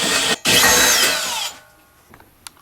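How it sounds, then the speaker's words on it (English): A power drill drilling into metal whirs loudly for about a second after a brief start, then cuts out, leaving faint clicks and scraping. "I'm going to try use my drill."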